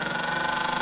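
A noisy electronics cooling fan runs steadily after replacement, giving a constant broadband whir with a slight rhythmic pulsing, close and alone.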